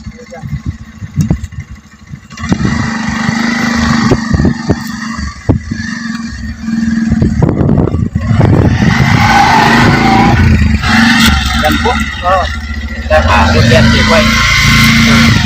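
A motorcycle engine runs steadily on a farm, a low continuous hum that stays under loud, overlapping voices of several people talking and calling out.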